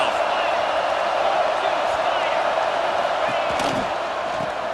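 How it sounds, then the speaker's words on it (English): Stadium crowd in a college football video game roars steadily, a dense sustained wash of cheering that holds loud and even throughout, with no clear talk on top. "Decibels rising as the crowd gets behind this defense on third down."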